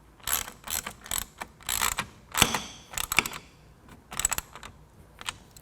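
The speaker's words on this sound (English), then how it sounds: "hold the bottom side, the bolt side, with a 14mm wrench and tighten down the nut" A wrench tightens a nylock nut on a bolt of a Rugged Ridge Voyager soft top on a 2-door Jeep JK, giving close, rapid bursts of ratcheting clicks in uneven groups with short pauses between.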